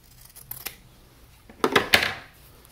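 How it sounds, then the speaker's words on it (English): Scissors snip through extra fabric while making a face mask, a few crisp close cuts: light snips first, then two louder, sharper closing crunches. "I'm going to cut off this extra fabric."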